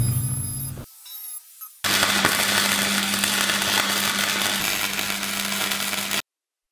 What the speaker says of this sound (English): Let's run some beads of weld.